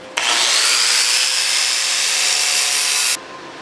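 A handheld power grinder works over a freshly made flux-core weld. A loud, continuous, high-pitched grinding hiss runs steadily for about three seconds and then cuts off abruptly.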